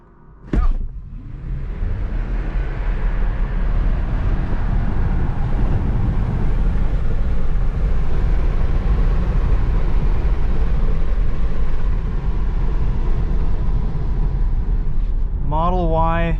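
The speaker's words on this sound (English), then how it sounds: "this is Tesla Model Y dual motor versus the Mustang Mach-E. We're gonna do a little drag race" Tesla Model Y dual motor and Ford Mustang Mach-E launching side by side in a drag race, a steady broadband electric-motor and tyre roar that swells after a sharp start and holds loud throughout, with a voice briefly at the end.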